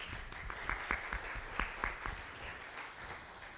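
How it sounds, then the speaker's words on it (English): A church congregation applauds after a fundraising live auction, a moderate, steady round of clapping with several sharper individual claps and a slight fade toward the end. "a big round of applause for that"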